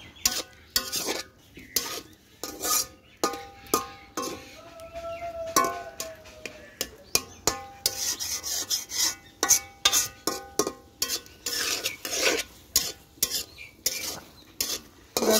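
Taro pieces being stir-fried in a cooked-down spice paste in a pot on a clay stove, with repeated scraping stirring strokes in an uneven rhythm, close and fairly loud, with no talking.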